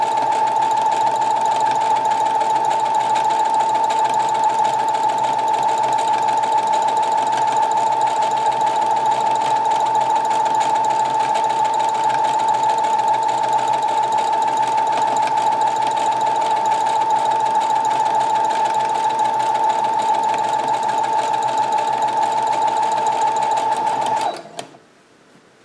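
A domestic sewing machine stitching a t-shirt seam forward and in reverse, a steady loud close whirring hum held without pause for over twenty seconds, then stopping abruptly; no talk.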